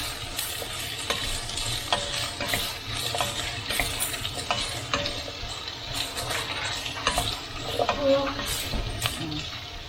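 Onion and courgette sizzle and fry in a hot pan while being stirred, with a steady close sizzle broken by frequent scraping and clinking.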